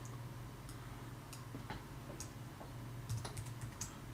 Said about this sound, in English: I'll be here typing for a while.